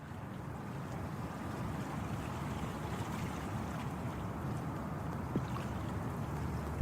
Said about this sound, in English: The ambient sound, the water splashing, and the wind kind of at the just in that very opening menu.